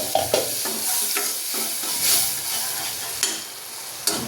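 Chillies and spices for Kathiyawadi galka shaak cook in a covered pan over a low gas flame, giving a soft steady sizzle with a few scrapes and clinks of stirring.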